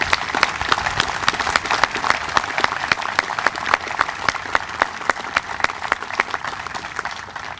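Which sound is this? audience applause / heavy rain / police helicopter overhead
audience applause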